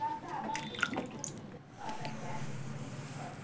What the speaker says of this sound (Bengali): প্রথমে এই মিষ্টি আলুকে পরিষ্কার করে ধুয়ে নিচ্ছি।